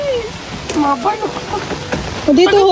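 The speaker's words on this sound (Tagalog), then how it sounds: "Kami po bigla nang inulan." Sudden rain pouring down at an outdoor fish-pond restaurant, a steady hissing patter with a faint rumble, heard close beneath excited people talking.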